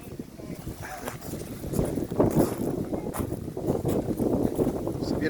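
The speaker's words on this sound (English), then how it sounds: "It's very windy up here." Strong wind on the East Coast buffets the microphone in a rough, low rumbling roar that swells and gusts throughout the clip.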